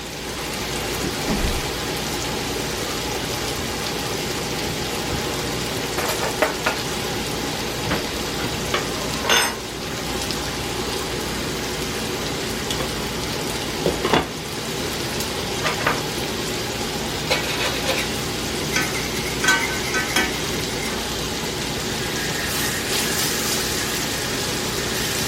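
Hot oil in a frying pan sizzles steadily and densely under pork chops for the whole stretch, with scattered sharper pops and spoon clatters now and then.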